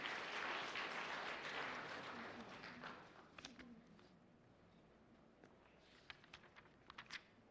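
Congregation applauding at an Easter worship service right after an infant baptism, a dense, sustained wash of clapping that fades over several seconds, leaving a few scattered claps and faint room noise.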